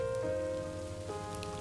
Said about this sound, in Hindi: अभी इतनी जल्दी बारिश भी आ गई।